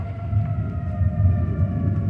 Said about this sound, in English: those are tornado sirens going off.